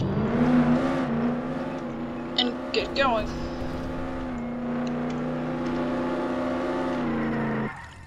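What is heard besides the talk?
car driving in video game Roblox Jailbreak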